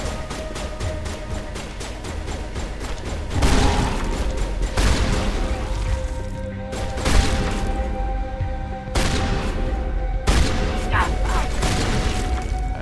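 Gunfire and booming shots in a Mass Effect firefight on Ferros, with several heavy blasts spaced over a steady, busy background of game sound and mechanical hum.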